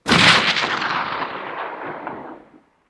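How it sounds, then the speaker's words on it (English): A single loud, close rifle shot fired at an impala during a hunt in South Africa, a sharp blast followed by a long rolling echo that fades over about two seconds. "Made a nice little clean headshot, very close shot."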